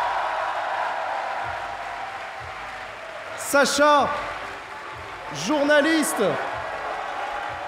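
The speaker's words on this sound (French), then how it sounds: "je vous propose de faire un tonnerre d'applaudissements pour Sacha Beckerman" Applause from an audience greets a guest at a French panel event on press independence, rising in two loud bursts between stretches of a host speaking into a microphone.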